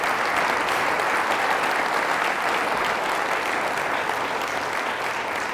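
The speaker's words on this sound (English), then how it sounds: "Please give me a little round of applause for everybody that's volunteering." Sustained crowd applause for city volunteers during a 2018 State of the City address in Poughkeepsie, a steady dense roar of many hands clapping throughout, close and loud, with no talking over it.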